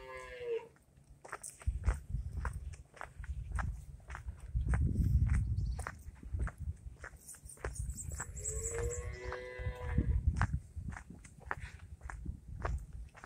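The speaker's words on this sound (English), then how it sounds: "And the cows over here." Cattle lowing repeatedly in an open pasture at Morgan Lewis, St. Andrew, Barbados, several drawn-out moos from nearby animals over a steady rustle of footsteps and ambient field noise.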